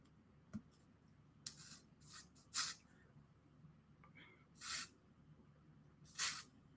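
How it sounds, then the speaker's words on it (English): Several short hissing bursts from a spray bottle, about five quick sprays spaced unevenly over a few seconds, close up and fairly quiet against a low background, with a faint tap near the start. "I'm going to spray short burst. It doesn't have to be hard and it doesn't have to be long"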